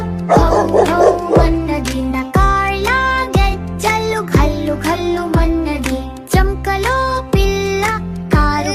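Dog barks set to music in a Telugu children's rhyme: repeated bark-like yips land on a steady beat across the whole stretch, each one tonal and loud, blended with the song's accompaniment.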